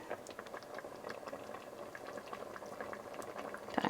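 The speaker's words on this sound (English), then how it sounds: "has been simmering now for 30 minutes with the lid off" A pot of homemade salsa with fresh peppers and onions simmers uncovered, bubbling and popping continuously in a busy, close but soft patter that stays fairly even throughout.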